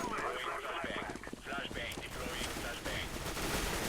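Rapid gunfire in Counter-Strike on the Cache map, with bursts of shots cracking over each other under a voice.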